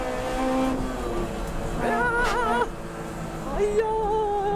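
A car is pushed hard on a mountain pass test run, its engine revving up and shifting with rising and falling tones, loud and close, with faint voices in the background.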